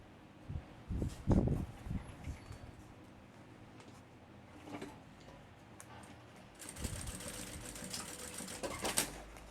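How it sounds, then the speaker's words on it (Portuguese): A sewing machine stitches satin ribbon onto the corner of a backpack's front pocket, heard in short bursts of mechanical whirring and ticking with quieter pauses between, then a longer steady run at the end. "Eu vou pegar a minha fita de cetim e vou costurar aqui no canto do meu bolso aqui"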